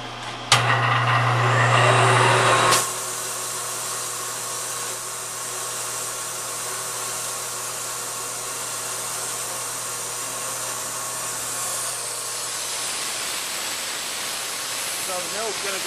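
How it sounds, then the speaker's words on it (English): A milling machine cuts a straight bevel into a Wharncliffe knife blade: a loud whirring burst for about two seconds, then a sustained lower mechanical hum with a faint high whine. "So the mill's gonna go in, start cutting that bevel in there."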